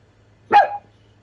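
A dog lets out a single sharp, close bark, startled by a sudden gust, against a low steady hum and otherwise quiet surroundings.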